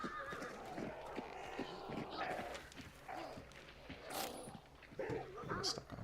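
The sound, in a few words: horse neighing in Hunt Showdown video game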